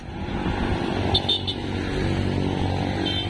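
Motorcycles travel a road near the foot of a bridge in Navotas, with a continuous close engine roar and rumble throughout, while brief horn-like tones cut in partway through.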